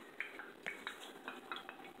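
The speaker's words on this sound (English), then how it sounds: "Mario, stir it and let's see if it sizzles, fizzes" Quiet, close clinking of a utensil against a container of ginger bug starter, repeated in a loose stirring rhythm with soft liquid swishes.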